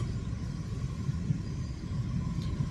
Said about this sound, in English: I can hear a train going past as well.